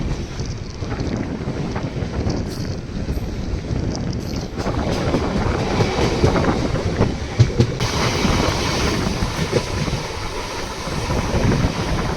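Tumkur–Bangalore MEMU electric train running at about 85 to 90 km/h, a loud steady rumble with heavy wind buffeting that swells slightly partway through.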